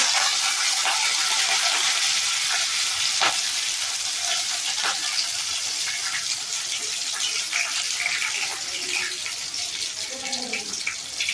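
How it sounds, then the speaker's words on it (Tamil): Mustard seeds popping and crushed garlic frying in hot oil for a Tamil fish curry, a continuous bright sizzle with scattered sharp crackles and occasional scraping, close and steady, no voices. "கடுகு நல்லா பொரியும் போது கொஞ்சமாக பூண்டு நசுக்கி போட்டுக்குங்க"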